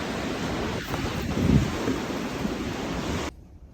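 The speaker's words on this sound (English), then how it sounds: "the wind just picked up severely" Strong wind gusting hard through a garden with a greenhouse, a dense roaring rush that swells in the middle before cutting off abruptly near the end.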